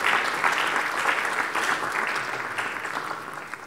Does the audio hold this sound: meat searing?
no